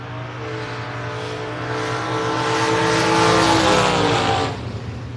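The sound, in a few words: drag race cars launching and racing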